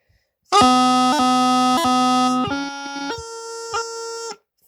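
A Nixon bagpipe practice chanter plays a short phrase of sustained reedy notes with crisp grace-note cuts between them, including a high A with a thumb strike, loud and close.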